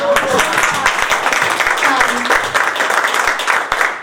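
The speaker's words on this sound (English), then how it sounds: "Well, I think this applause is for my professor." Lively audience applause at a college honors seminar, dense close clapping with a few cheers and voices mixed in, continuing steadily throughout.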